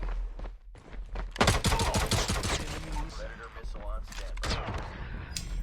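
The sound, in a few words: gunfire in Call of Duty Mobile video game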